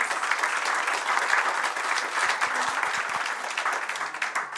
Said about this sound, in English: a big round of applause for Philippe and the panelists